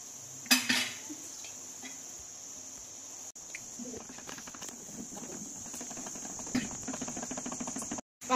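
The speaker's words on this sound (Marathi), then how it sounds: "मी आता यात बेसन टाकून ते घोटून घेते।" Gram flour is stirred into boiling green masala in a pot, with a spoon scraping and clinking against the metal in uneven repeated taps over a steady background hum.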